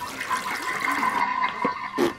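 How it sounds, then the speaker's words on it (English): A small children's potty toilet flushes with a brief rushing, gurgling burst of water, heard close and fairly loud with no talking over it. "You can flush it."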